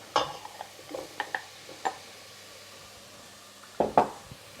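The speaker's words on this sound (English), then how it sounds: "we just need a little bit more oil in the pan, because we want to just cook our potatoes, just kind of gently saute them" Russet potatoes being stirred as they gently sauté in oil in a pan, with a quiet sizzle beneath scattered scraping and clinking of a utensil against the pan, several sharper knocks near the end.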